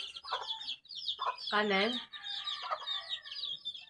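Chickens cluck and chatter nearby in quick bursts, with one longer drawn-out call in the middle and a brief voice speaking.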